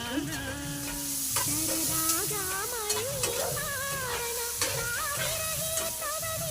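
Golden-fried onions sizzle and crackle steadily in a pan, with occasional stirring scrapes and a cat meowing repeatedly in the foreground.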